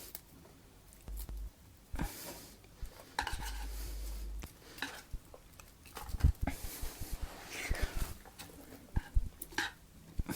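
Sliced onion rings stirred in a pan with a utensil, giving irregular scraping and clinking knocks against the metal over a faint sizzle, steady and close throughout.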